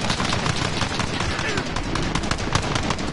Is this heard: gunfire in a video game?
yes